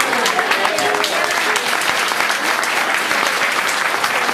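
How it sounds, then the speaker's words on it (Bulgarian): A church congregation claps together in a dense, sustained burst of applause that stays loud and even from start to finish. "В името на Исуса, нека пляскаме на Господа."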